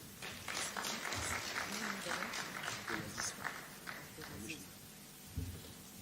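Audience applause after a speech at an election security programme launch, a steady wash of clapping from a crowd that thins out toward the end.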